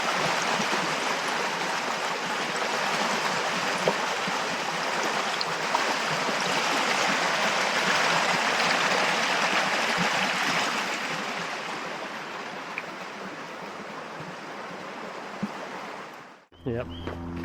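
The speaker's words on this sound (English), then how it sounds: "Nice. Flowing water." Steady broadband rush of a stream flowing beside a hiking trail at Mount Monadnock, New Hampshire, continuous and fairly close, fading out abruptly at the end.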